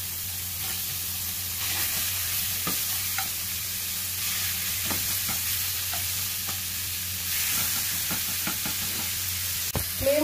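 Beef pieces searing in a pan with a little oil and butter over a high flame give a steady, close sizzle and frying hiss, with occasional stirring scrapes and pops, and no voices over the frying.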